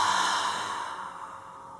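A child imitates Darth Vader's breathing with a long, breathy exhale during a kids' Star Wars-themed exercise class, one steady hissing breath that slowly fades.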